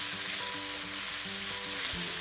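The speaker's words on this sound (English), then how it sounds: "oil in my pan, and that's going to help release some of the flavor from my spices" Spices and a tablespoon of curry powder fry in oil in a large pan, giving a steady close sizzle with soft stirring clatter throughout and no talk.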